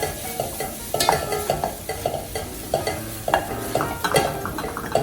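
Shallot and kale sizzle as they cook down in a pan. A steady frying hiss runs under repeated stirring scrapes and light clanks of a utensil against the pan, and no one speaks.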